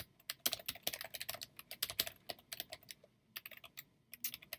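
An email address is typed on a computer keyboard, giving quick bursts of crisp key clicks with short pauses between, close and fairly quiet, with no talk.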